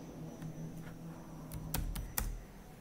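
Keys on a computer keyboard are typed in a short burst of quick clicks, with a few sharper taps near the end over a faint background hum. No one speaks.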